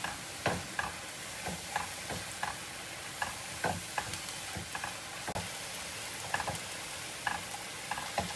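Vegetables seasoned with paprika chilli powder and black pepper stir-frying in a pan, with a steady sizzle under repeated sharp scrapes and knocks of the spatula in an irregular rhythm, close and alone without talk.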